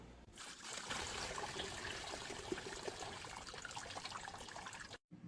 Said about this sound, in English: Now you dump that pulp out.